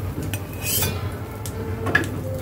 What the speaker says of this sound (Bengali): তো ডিম ভাজিটা করা হয়ে গেছে, এখন হচ্ছে আমি তুলে নিচ্ছি